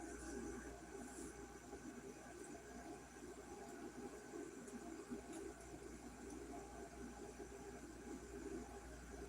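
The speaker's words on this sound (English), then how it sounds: "There's my train." A train rumbles past at a distance, a faint, steady low rolling drone with a light metallic rattle that stays even throughout, with no voices.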